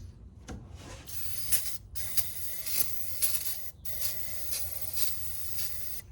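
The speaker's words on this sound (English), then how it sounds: "we'll start with a little starter fluid" Starter fluid sprayed from a can into the engine of a 1974 GMC Jimmy that has sat for 18 years, a few faint hissing bursts with small clicks and rattles over a low rumbling background.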